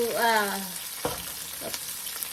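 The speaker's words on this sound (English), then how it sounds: "fry the ingredients that it takes a little longer to cook" Vegetables fry in a pan with a steady sizzle and occasional clinks from stirring, while a brief voice sounds at the very start.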